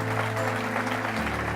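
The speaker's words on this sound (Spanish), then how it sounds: "Vamos a darle un fuerte aplauso al Señor." Brief congregational applause during a church service, many hands clapping at a moderate level over sustained background music tones, lasting under two seconds.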